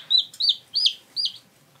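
A young hen being handled gives four short, high, squeaky clucks, evenly spaced and close by, with near silence between them.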